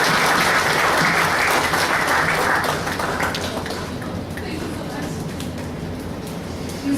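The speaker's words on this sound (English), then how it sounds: "Please put your hands together in welcoming Ms." An audience at a college inauguration event applauds to welcome a speaker, loud sustained clapping that fades to scattered claps after a few seconds.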